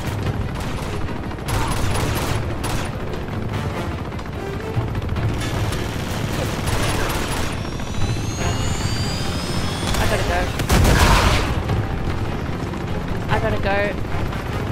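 Bursts of rapid gunfire ring out during an Uncharted 2: Among Thieves train-platform fight, loud and sustained beneath a roaring engine-like rumble, with someone talking and exclaiming over the action.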